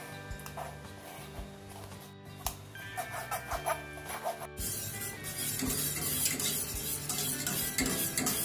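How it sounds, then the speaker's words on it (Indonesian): Spoon stirring a chocolate pudding mixture of cocoa powder and hot steamed water, with soft scraping and clinking against the pot. The sound is steady but quiet, with a busier, brighter stretch in the second half. "Kita aduk-aduk sekali dengan air panas steam dulu."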